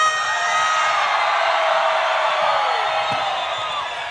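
A concert crowd in Plovdiv roars for a singer at a Megamix show, a steady wall of applause and cheering that holds loud and unbroken throughout.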